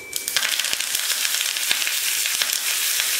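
Mustard seeds, urad dal and curry leaves sizzle and crackle in a small spoonful of hot oil, with dense frying hiss broken by sharp pops and spits, close and fairly loud.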